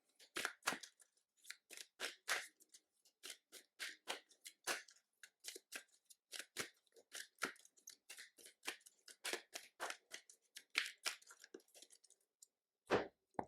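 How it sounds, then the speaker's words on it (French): Playing cards are shuffled over and over during a tabletop Arkham Horror card game, a quiet, close run of rapid soft flicks and riffles in irregular bursts with no talking. "Et je rebrasse mes cartes."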